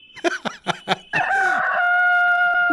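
A few loud, quick clucks followed by a long, drawn-out rooster crow, close and clear.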